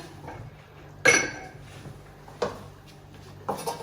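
A lid goes onto a pot of rassolnyk pickle soup on the stove, a sharp metallic clink followed by a few softer knocks and clatters in a quiet kitchen.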